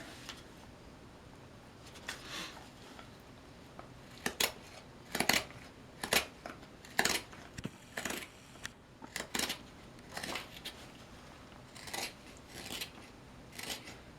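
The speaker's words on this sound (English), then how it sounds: "you can get a little bit of a slicing action by rolling the gouge as you cut and kind of coming around" A wood gouge hollows a spoon bowl in a series of short, sharp, crisp slicing cuts at an irregular pace, some louder than others, against a quiet room background with no speech.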